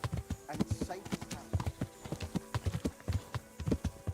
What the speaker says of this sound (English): this is my absolute favourite part of KCD, is just jumping on the horse and exploring the countryside